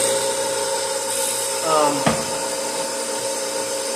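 A Sellers 4G drill grinder sharpens a badly hand-sharpened drill bit back to a 118-degree point, giving a steady grinding whine with a brief louder scrape near the middle of the short run.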